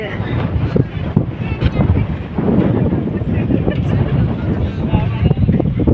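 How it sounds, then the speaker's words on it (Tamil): Strong wind at a beach in Manapad, Tamil Nadu, roars and buffets the microphone continuously, a loud rumbling gusty rush that never lets up. "காற்று அந்த அளவுக்கு அடிக்குது."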